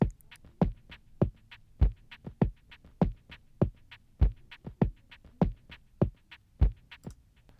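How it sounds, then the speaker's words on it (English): Soft hand pats on carpet form a steady, looping percussion groove, each thump dull and low with a light brushing attack, repeating at an even pace. "It's just literally the sound of me like patting on my carpet on the ground."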